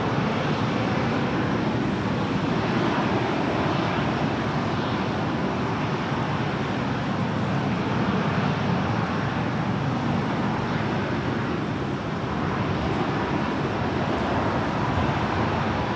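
A Dassault Falcon jet about to touch down at LAX roars as one steady, broadband rush of engine noise lasting about 16 seconds, with a loud, even level and no voices.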